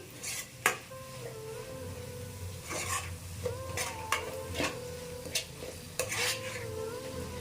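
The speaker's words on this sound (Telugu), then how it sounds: "ఇంతే మసాలా అంతా నీట్గా ఇలా మిక్స్ చేసుకోవాలి" A spatula stirs masala into dry chicken curry in a pan, quiet scraping and metallic clinks recurring every second or so over a faint sizzle.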